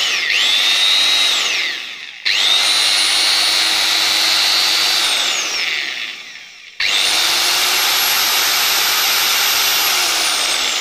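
An electric drill whirs up to a high-pitched whine three times, each run holding steady before cutting off, loud and close.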